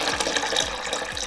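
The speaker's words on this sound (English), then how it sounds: "Now you can see if I'll again put more water" Water pours steadily into the fuel-level gauge of a smart helmet project, a continuous close splashing fill with a few low gurgling surges, heard alone.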